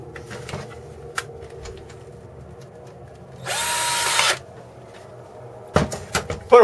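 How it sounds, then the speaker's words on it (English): Screws are driven back into a plasma cutter torch head with a small power driver, a single short whirring burst in the middle, set among light handling clicks and taps. "Put your screws back in."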